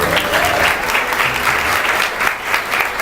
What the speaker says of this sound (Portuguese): Glória a Deus, uma salva de palmas.